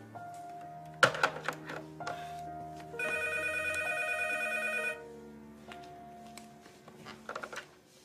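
A telephone rings with a trilling electronic bell for about two seconds, set among soft thumps and clicks of handling nearby.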